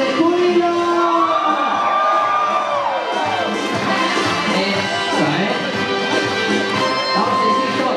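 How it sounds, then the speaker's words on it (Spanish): A church congregation at a concert lets out a loud, sustained shout of jubilation, many voices cheering, whooping and yelling together for the full eight seconds. "A ver, déme el grito de júbilo."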